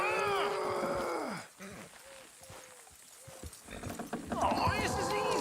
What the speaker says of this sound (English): You gonna pull that horse, or I gotta give it a kick?